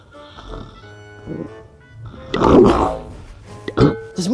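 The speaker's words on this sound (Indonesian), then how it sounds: "kamu mah kalah ngorok baturkeun aja ngobrol teh" Someone snores in rough, uneven snorts and grunting breaths, close and loud, with the heaviest rasps in the second half and soft gaps between them.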